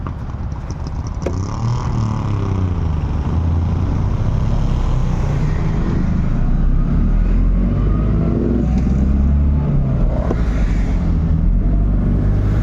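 An early FSO Syrena, a small vintage car, revs close by as it pulls through the gears, its pitch rising and dropping with each shift.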